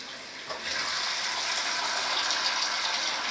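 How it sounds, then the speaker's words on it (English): Water poured into a blender jug over soaked ingredients in a home kitchen: a steady, close gushing splash that starts abruptly and runs on without talk. "I'll put some water in this."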